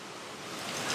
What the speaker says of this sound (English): That is a stellar waterfall.